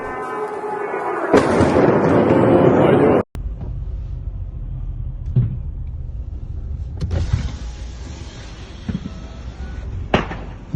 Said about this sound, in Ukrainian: У місті пролунало понад 15 вибухів.